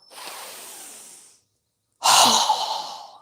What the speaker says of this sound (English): exhale through our mouth with a strong breath as we quickly lower our arms and hands down